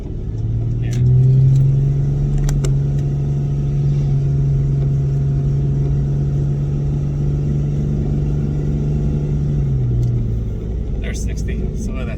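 An electric truck towing a 5,000-pound trailer accelerates from a standstill to 60, giving a loud, constant cabin rumble under a sustained steady motor hum that eases off near the end.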